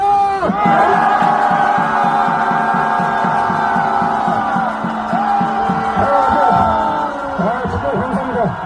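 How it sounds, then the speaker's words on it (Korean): A large crowd outside the Seoul Detention Center roars a sustained cheer together at a political rally. Loud shouting and whooping swell, then ebb and rise again, with amplified voices and rhythmic chanting mixed in. "윤석열 대통령님께 함성 발사!"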